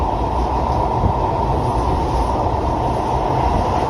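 A train runs on the rails with a steady, loud, unbroken rumble and rattle, and no voices.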